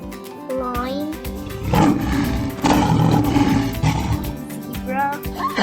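A big cat roars loudly in a couple of long bursts, with a voice and playful sounds around it.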